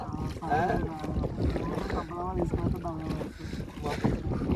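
A motorboat carrying tourists near Vizag drones across the water with rushing wind buffeting the microphone, while passengers talk loudly over the engine and splashing.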